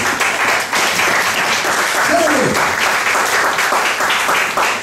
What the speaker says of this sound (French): Est-ce qu'on peut acclamer très fort la parole de Dieu?